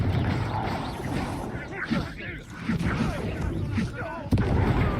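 Spell combat in the video game Hogwarts Legacy: layered magical blasts, crackles and impacts fire in quick succession over a busy game score, fairly loud throughout, with a sharp burst near the end and a player voice calling out in places.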